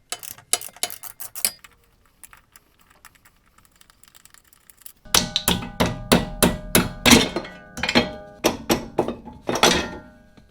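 A big hammer strikes a stubborn shock absorber bolt on a 2006-2015 Mazda Miata NC during a coilover install. Sharp, close metallic blows come in quick bursts, sparse at first and then a dense run of repeated heavy strikes.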